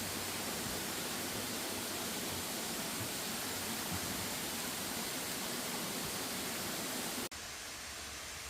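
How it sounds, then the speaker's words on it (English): Waterfall at Clifty Falls, Indiana, seen from a bridge below, a dense continuous roar of falling water, loud and steady, then abruptly quieter near the end. "Better view of the waterfall that we were just on top of."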